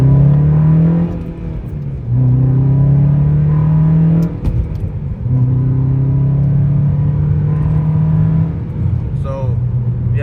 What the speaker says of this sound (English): I'm just gonna do the Vtec crossover.